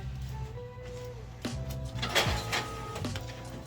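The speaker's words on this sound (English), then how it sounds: "that noise that you hear back there is my printer" A printer runs nearby in a room, mechanical whirring with rising and falling motor tones and a few clunks as paper feeds through.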